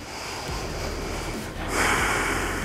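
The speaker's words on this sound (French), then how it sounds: "On prend des bonnes respirations." A person breathing deeply during mobility exercises, a long close inhale followed by a louder, forceful exhale, with no speech.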